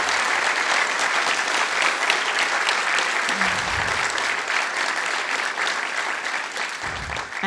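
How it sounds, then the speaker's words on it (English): A conference audience applauds loudly, with dense, steady clapping that fills the room from start to finish and carries a low crowd murmur. "Can we please give them a really big round of applause for making the event possible?"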